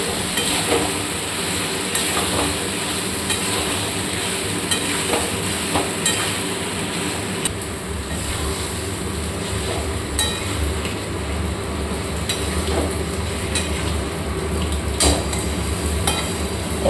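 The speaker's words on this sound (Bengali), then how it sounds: "মশলাগুলো যেগুলো বেটে রেখেছিলাম সেগুলো দিয়ে দেবো দিয়ে ভালো করে কষে নেবো" Ground spice paste stir-fries with a large fish head in a pan. A continuous sizzle runs throughout, with scraping and clinking from stirring at a close, even level and no speech.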